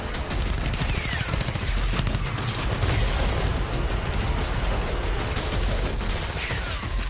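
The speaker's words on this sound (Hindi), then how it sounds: "एक साथ हिज्ब के 6 ठिकानों पर जबरदस्त ब्लास्ट होता है" Explosions and heavy gunfire at Hezbollah sites in southern Lebanon make a dense, continuous roar of rapid bursts and booms. The noise stays loud and unbroken throughout.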